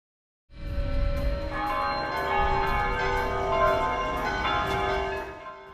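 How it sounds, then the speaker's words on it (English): Church bells in The Walking Dead: Saints and Sinners video game start abruptly and keep ringing, layered metallic strikes and long resonant tones sustaining loudly before easing slightly at the end. "The tourist wakes up 3 days later to the sound of bells ringing."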